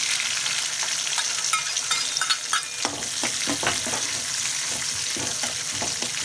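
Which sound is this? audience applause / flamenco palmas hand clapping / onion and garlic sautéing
onion and garlic sautéing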